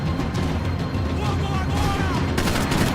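Automatic gunfire from a rapid-firing gun in the Max Payne 3 video game, a dense continuous clatter of shots mixed with game effects and a voice, steady and loud throughout.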